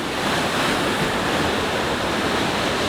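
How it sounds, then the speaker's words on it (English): Ocean waves and tide at Hua Hin, Thailand, beside a seaside restaurant, a loud continuous wash of surf mixed with heavy wind buffeting the microphone. "you can see the tide of this ocean"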